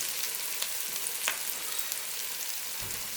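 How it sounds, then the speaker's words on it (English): Onions sauté in a small pan, giving a soft continuous sizzle with faint crackles and a brief stirring scrape near the end. "I'm going to have to saute the onions in batches"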